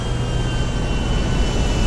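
An airplane flies by in the video game Grand Theft Auto V, a steady, loud jet roar with a deep low rumble that holds even throughout, with no voices.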